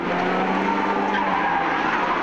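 A rally car slides with continuous loud tire skidding over a steady engine drone, close and sustained throughout with no talk.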